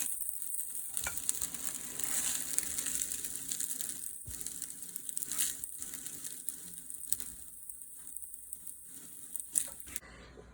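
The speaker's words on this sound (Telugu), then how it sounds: "ఇలా ఆయిల్లో ఒక 1 మినిట్ ఫ్రై అయిన తర్వాత కొంచెం పుదీనా ఆకు వేసుకొని సర్వ్ చేసుకోవాలి." Jeera rice with mint leaves frying in hot oil in a pan, giving a steady, close sizzle with scraping and stirring noises throughout, and a brief pause in the middle.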